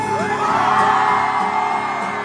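A rally crowd shouts, whoops and cheers loudly and steadily, voices overlapping in a dense roar with a few rhythmic chant-like bursts throughout.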